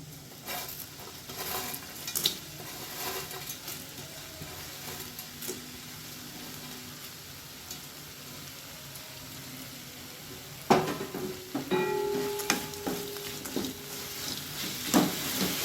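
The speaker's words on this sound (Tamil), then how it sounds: "கையில் வச்சு நல்லா 1 நிமிஷம் நல்லா மிக்ஸ் பண்ணி விட்டோம்னா ரெடி ஆகிடும்" Crispy fried chapati pieces are tossed and mixed by hand in a bowl, giving soft rustling and crunching over a faint sizzle, with louder clattering bursts toward the end.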